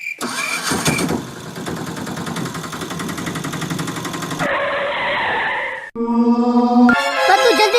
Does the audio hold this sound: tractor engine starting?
yes